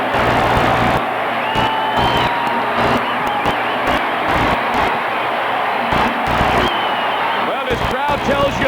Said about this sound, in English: Well, this crowd tells you a lot. Tremendous reaction.